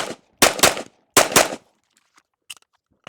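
A Glock 43X pistol fires rapidly, loud and close, in two quick bursts of several shots each, followed by faint clinks and near silence.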